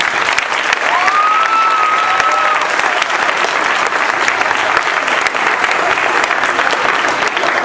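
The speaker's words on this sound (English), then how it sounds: "So let's clap for them." A school assembly audience applauds teachers at a Space Week opening, a loud, dense wash of clapping that runs throughout, with a brief whistle or cheer near the start.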